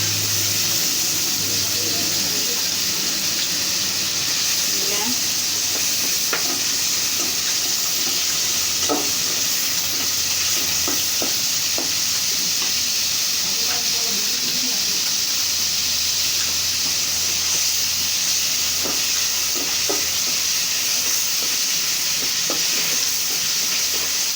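Ground cumin, coriander and garlic fry in a pan, giving a steady loud sizzle and hiss with occasional scraping stirs throughout.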